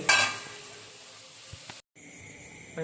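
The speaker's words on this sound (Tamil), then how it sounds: "நண்டை எடுத்து க்ளீன் பண்ணி இவ்வளோ தான் வந்தது நண்டு வறுவல் போடணும்" Crab fry sizzles in a pan with a soft, steady hiss, opening with a louder burst of spatter and broken by a brief silent cut before the hiss resumes.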